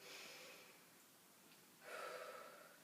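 A single deep breath, a soft airy inhale followed by a stronger exhale, close and alone without any talking.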